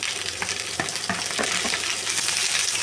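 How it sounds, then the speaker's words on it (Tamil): Sliced onions frying in hot oil with popped mustard seeds for a potato masala, a steady close sizzle with a few stirring scrapes and small spits. "இப்போ நம்ம இந்த வெங்காயம் கப்பலாக அதை போட்டுடலாம்."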